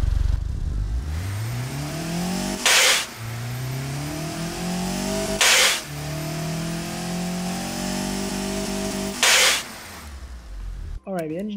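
A virtual car engine in the Automation game fires up, then revs and settles in repeated rising and falling sweeps broken by brief sharp bursts, loud and close, with a voice talking over it.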